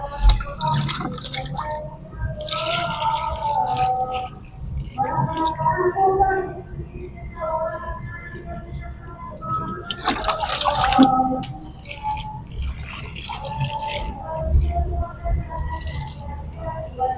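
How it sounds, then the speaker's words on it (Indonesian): Water splashes and drips steadily as it is poured onto the potting soil of a potted grape plant, with speech-like tonal sounds running over much of it. "tinggal kita siram sampai media tanamnya benar-benar terbasahi semua."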